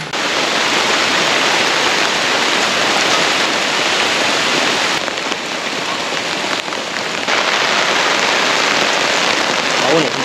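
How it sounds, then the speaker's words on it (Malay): Steady drizzle falls on a parked car and surrounding surfaces outdoors, a dense even hiss of droplets that continues loud and unbroken with no voices. "Gerimis sudah mengundang kembali."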